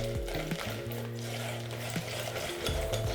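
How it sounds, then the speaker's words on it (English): Steady whisking of pancake batter with chocolate chips in a bowl, a continuous close stirring scrape with faint clinks of the whisk against the sides, no talking. "Just whisk it in and look that it's nice and smooth."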